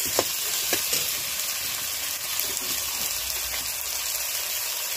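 Tomato and capsicum are stir-fried in a pan, giving a steady, bright sizzle with a few sharp clicks of a utensil near the start.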